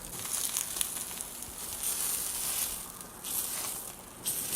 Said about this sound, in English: We're using the cast iron griddle on a high heat so it gets ripping hot and we can maximize the sear on our meat